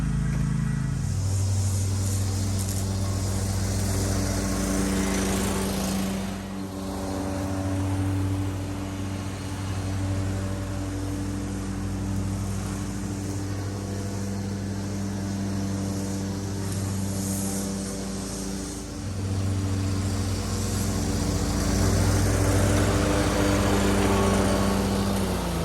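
A lawn mower drones steadily close by as it cuts a lawn, the engine holding a constant buzzing tone with slight dips and swells in loudness as it turns and moves across the grass.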